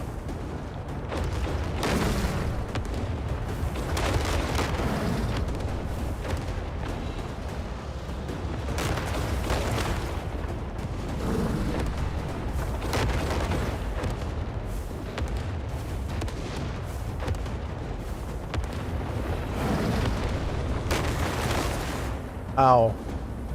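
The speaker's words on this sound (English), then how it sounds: "they're heat-seeking missiles" Heat-seeking missiles exploding in the video game Crimson Desert, a dense, continuous rumble of booms and blasts with heavier surges throughout, loud and sustained, under intermittent talking.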